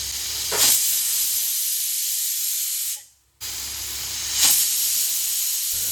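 A pressure cooker of chicken masala on a medium flame releases steam in loud hissing bursts, its whistle rising twice amid a steady spray of steam with a short silent gap between.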